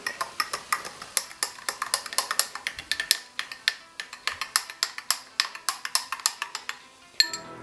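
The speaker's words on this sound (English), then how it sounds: "start mixing together all the ingredients that you just put in" Metal spoon clinking rapidly against a glass while homemade diet soda ingredients are mixed, dozens of sharp close ticks in a quick uneven rhythm that ends with one louder knock.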